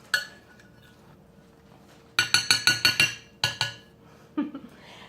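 A utensil stirring corn chowder ingredients in a microwave dish: a quick run of bright, rhythmic clinks against the dish, a short pause, two more clinks, then a softer scrape.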